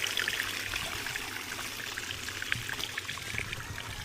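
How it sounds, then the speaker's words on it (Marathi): Water pours steadily into a kalshi water pot, a continuous close hissing, trickling stream at low volume without pauses. "तर चला, आता पाणी भरून झालेलं आहे."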